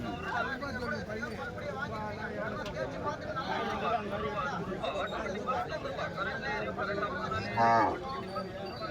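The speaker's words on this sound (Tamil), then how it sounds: "கண்ணுக்குட்டி கண்ணுக்குட்டி ஒரு மூணு கண்ணுக்குட்டி கொண்டு வந்திருக்காங்க" Calves and cows at a cattle market lowing amid the steady hubbub of a crowd, with one louder moo rising near the end over continuous chatter.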